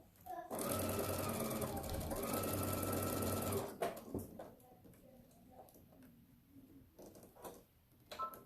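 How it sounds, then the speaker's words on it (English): A sewing machine stitches quilt pieces cut from jelly roll fabric strips, running steadily and loudly for about three seconds before stopping, followed by quieter handling and fabric noises. "I'm gonna come over here and stitch that together real quick."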